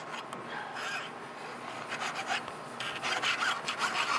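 A jeweler files and contours a metal ring with a steady, close rasp of repeated scraping strokes that grow slightly louder toward the end, with no talking.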